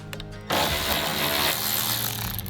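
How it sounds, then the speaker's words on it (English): Painted 10 mm fender bolts come off a Ford Bronco with a mechanical ratcheting whir that starts suddenly and runs loud and continuous, close up, for about two seconds. "Okay, so you got to take the fender bolts off for this."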